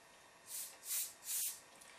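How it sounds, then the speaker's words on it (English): Airbrush spraying paint while illustrating feathers, three soft hissing bursts of about a quarter second each, close and fairly quiet, separated by short pauses. "spray a little bit heavier in your V areas and lighter in your void areas"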